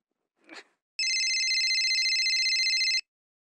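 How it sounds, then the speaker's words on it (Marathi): A short rustle, then a shrill electronic phone ring sounds steadily for about two seconds before cutting off abruptly. "कोणाचा फोन आलाय?"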